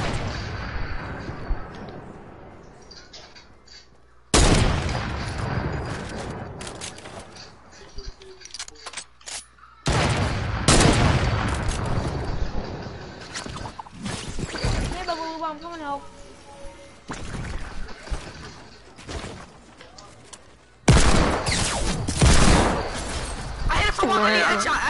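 Gunfire in a shooter video game, heavy sharp blasts and bursts recurring in loud blocks across the stretch, with a voice talking between them.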